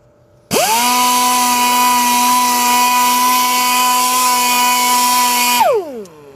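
A power sander with 320 grit works a deep gouge on the side of a Porsche wheel, starting abruptly into a loud, steady high whine and then winding down at the end.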